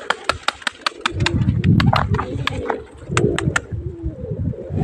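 Pigeons in a loft, including a crested one, coo in low throaty rolls close by, with sharp clicking taps and rustling sounding over them.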